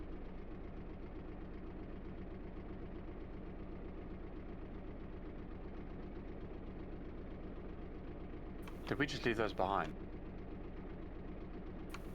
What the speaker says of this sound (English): Why can I hear an engine purring?